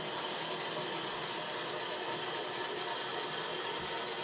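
Two model railway trains run on a layout at the same time, giving a steady, continuous rolling rumble and rattle of wheels on track with no talk.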